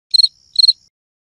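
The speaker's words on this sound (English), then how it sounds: "Grillito." A cricket chirps alone in two short, clear bursts, each a rapid trill of high pulses, close and moderately loud against silence.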